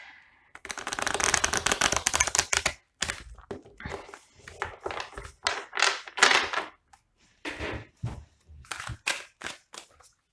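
Playing cards shuffled and drawn from a deck during a tarot-style reading, giving a run of close, crisp riffling and flicking bursts with brief pauses, alone without talk.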